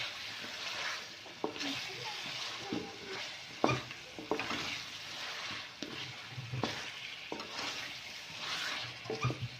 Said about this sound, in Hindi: आलू को मैंने बहुत ही अच्छे तरीके से भून लिया